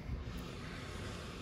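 Strong wind from Storm Kathleen buffeting an outdoor microphone near garden trees and flower beds, a low rumbling roar with uneven gusts, fairly quiet and steady throughout.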